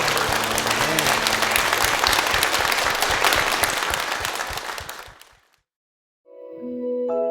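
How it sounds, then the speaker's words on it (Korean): Church congregation applause during a Korean worship service, dense sustained clapping over a low hum of voices that fades out, followed by a short silence and then music. "주님께 영광의 박수 올려드리겠습니다"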